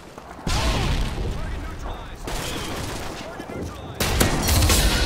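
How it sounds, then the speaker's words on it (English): Gunfire and a stun grenade blast in the multiplayer video game Call of Duty: Modern Warfare 2, with loud bursts of shooting, a sharp bang near the end and the player talking over the action. "Throwing a stun grenade."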